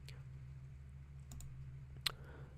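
A single faint computer mouse click confirms an entry, a brief sharp tick near the end over a steady low hum and otherwise quiet room.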